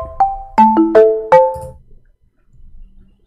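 Phone ringtone for an incoming call, four bright chiming tones rising in a quick sequence, clear and close, followed by near silence.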